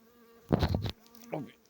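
Honeybees on the outer frame of a hive buzz with a steady hum, and a couple of brief louder bursts of buzzing stand out in the short moment.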